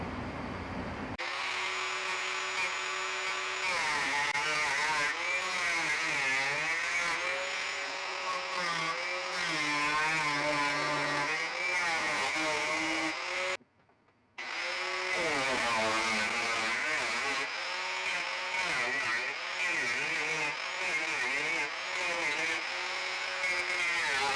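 An angle grinder works metal on the sill of a truck cab during cab repair, a loud steady high whine with shifting pitch as the disc bears down, briefly cutting out around the midpoint before resuming.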